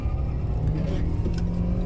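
A car engine revs during a turn, a steady, close, low rumbling drone that holds at an even level, heard from inside the car with no voices.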